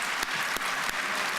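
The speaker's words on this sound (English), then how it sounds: "that is definitely worth an applause." Steady, even applause from an awards-ceremony audience, a continuous wash of many hands clapping at moderate distance, with no voices over it.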